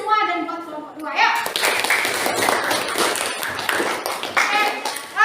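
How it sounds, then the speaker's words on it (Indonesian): A classroom of students clapping hands together for a group, brisk scattered claps building after a brief spoken lead-in and continuing steadily to the end. "kita tepuk tangan buat kita semua dan buat kelompok 2 ya."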